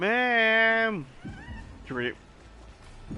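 A Chimera creature in the video game Honkai: Star Rail gives a long, drawn-out cat-like meow up close, followed by a brief spoken line and a shorter, fainter mew.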